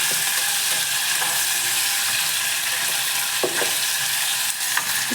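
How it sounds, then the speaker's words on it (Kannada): Chopped tomato and a potato fry in a pan for tomato bath, giving a steady, close, loud sizzle with faint stirring clicks throughout, no talking. "ಸ್ವಲ್ಪ ಫ್ರೈ ಆಗಬೇಕು."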